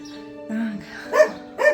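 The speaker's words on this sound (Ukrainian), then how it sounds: "Біля будинку ще є от водичка, собака гавкуча." A dog barks near a rural house, a few yelping barks rising at the end, close by over a faint background voice.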